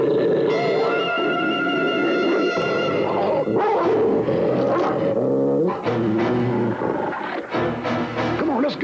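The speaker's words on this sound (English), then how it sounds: "Dogs, a lot of dogs." Several cartoon dogs bark and yap in a rough neighborhood in an animated film, a loud overlapping chorus of barks and whines that carries on steadily over a musical score.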